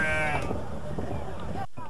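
Sheep bleat in a Bamako street market in the days before Eid al-Adha, a couple of short wavering bleats up front over busy outdoor bustle, with talk running underneath throughout.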